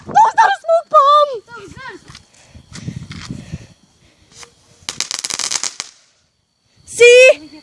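A Fourth of July firework mistaken for a smoke bomb goes off as a loud, crackling burst of rapid pops lasting about a second, with excited voices shouting before and after.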